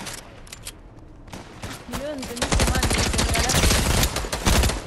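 Video game gunfire breaks out in rapid, dense bursts that grow louder and more continuous, following a quieter stretch with a voice speaking briefly.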